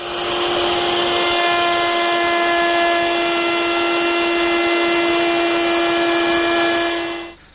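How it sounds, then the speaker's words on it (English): A router table fitted with a 1/4-inch beading bit cuts a bead detail along a wooden piece held by a featherboard, giving a loud, steady high whine with a constant pitch for about seven seconds before it drops away at the end. "I'm using a 1/4-inch beading bit to make that detail"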